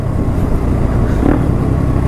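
A modified motorcycle engine revving under throttle gives a loud, close, continuous rumble that swells briefly in the middle of the clip, with no speech.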